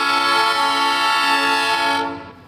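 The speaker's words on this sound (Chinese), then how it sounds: "喇叭响，火车之路开始。" A tourist sightseeing train in a canyon region of Sinaloa, Mexico sounds its horn at departure: one loud, sustained chord-like blast held steady for about two seconds, then cut off abruptly, with no talking.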